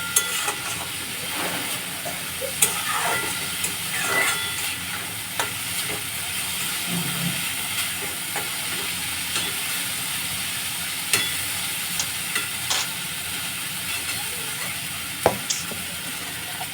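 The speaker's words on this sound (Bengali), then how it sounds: "চিড়েটাকে ভালো করে কড়াইতে একটু নেড়ে নিই।" Soaked flattened rice (chira) is stirred in a wok over a soft steady sizzle and hiss, with intermittent scraping and tapping of the utensil against the pan.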